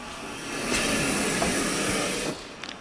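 A snake hissing as a warning gives one loud, breathy, steady hiss lasting about two seconds at close range, then it cuts off, leaving a couple of faint rustles.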